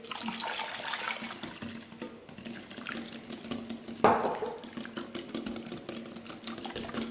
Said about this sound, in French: Et on rajoute le lait.